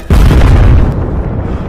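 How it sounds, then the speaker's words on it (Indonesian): A bomb detonates aboard a ship in a live-action fantasy action scene, heard as one loud, close, deep boom followed by a dense rumbling roar that slowly fades over a couple of seconds, with no talk. "di kapal tersebut terdapat bom lalu meledak"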